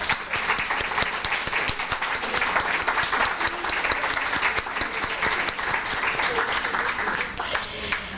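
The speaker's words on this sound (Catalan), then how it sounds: "per a qui demano l'escalf d'un aplaudiment" Warm applause from an audience at a book presentation, honouring a woman who has just turned 90: crisp, dense hand claps fill the room continuously for about eight seconds, with faint murmuring voices underneath.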